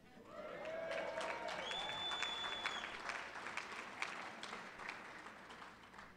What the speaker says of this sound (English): That was a golf clap